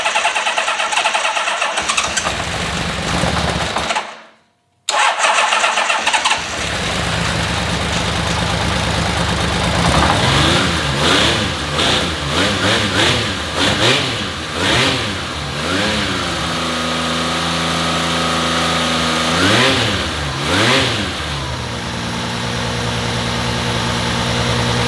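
A Honda CBX motorcycle engine, unrun for 20 years, cranks and fires up after a brief pause, then revs repeatedly in loud rising and falling bursts before settling toward a rough idle, close up with no talking.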